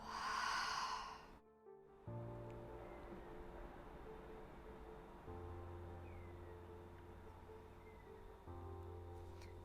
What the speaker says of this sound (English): on the exhale, let it go out through the mouth